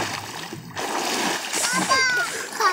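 Children splashing while diving in a pond: close, churning water splashes and gurgles as children talk and call out over the noise.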